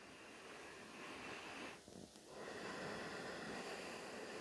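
Someone breathes slowly during an evening yoga session. Each breath is a soft, airy rush close to the mic that fills most of the moment, with one brief pause partway through.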